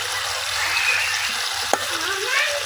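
Large fish heads coated in spices sizzle in a crowded wok, the close, loud frying hiss broken by a single sharp clank of the spatula while they are stirred.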